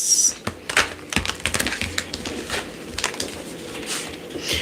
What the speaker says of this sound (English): I'm going to shuffle my cards while y'all ask y'all's questions.